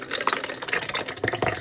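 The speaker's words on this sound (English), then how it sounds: "I'll pour half the soup back in" Soup poured back into a container, a close, uneven burbling trickle with small splashes and glugs over a couple of seconds, no voices.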